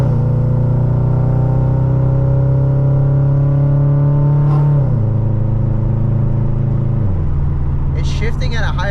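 Tuned Toyota 86 engine running and accelerating, a loud steady drone that climbs in pitch and drops twice as gears change, with a faint clatter near the end.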